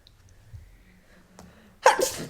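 A single loud sneeze bursts out near the end after a quiet stretch, sharp and close.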